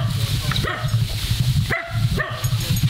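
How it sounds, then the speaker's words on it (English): A dog on a small island in the Mekong River barks in sharp close yips, about three bursts spaced through the clip over a low steady engine drone. "Let's see with this dog here"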